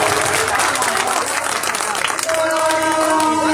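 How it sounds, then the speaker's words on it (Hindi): An audience at a mushaira bursts into dense, loud applause that fills the space, with a voice speaking over it as the clapping tapers off. "बस एक बार दोनों हाथ खोलकर जोरदार ताली बजाकर अपनी तारीफ करें।"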